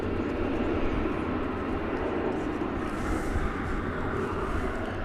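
An American Airlines Boeing 787-9 Dreamliner jet passes over a bridge near Dallas–Fort Worth Airport, giving a steady, broad engine roar that stays even and fairly distant through the whole stretch.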